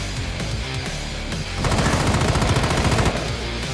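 Rapid automatic gunfire in the video game Rainbow Six Siege rattles in continuous bursts, getting denser and louder midway before easing slightly, with no talking.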